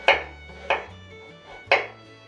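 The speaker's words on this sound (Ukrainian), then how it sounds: "Нарізаю морквину." Three crisp knife chops through a carrot on a cutting board, spaced unevenly, close and clear with nothing else around them.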